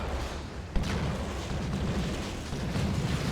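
Booming explosive bursts from Tyranid synapse explosions during a 3v3 Dawn of War 2 battle, a sharp pop near the start followed by a steady rumbling, crackling barrage of blasts with no talk.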